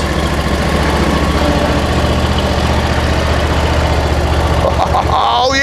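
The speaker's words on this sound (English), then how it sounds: "It's actually a ride-on lawnmower with this 60-inch deck on it." A ride-on lawn mower with a 60-inch deck runs steadily, its engine droning loud and close throughout with a constant low rumble, ending with some faint higher-pitched whirring.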